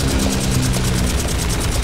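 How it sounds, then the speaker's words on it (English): Aircraft roar overhead in the World War II game The Saboteur, a loud, continuous low engine drone with a steady pulsing throb filling the whole stretch without pause, no voices. "Listen, I hear airplanes."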